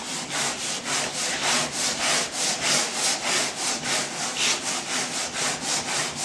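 Rhythmic sanding on a wooden sailboat boom, a rapid back-and-forth rasping repeated steadily, close and clear with no voices.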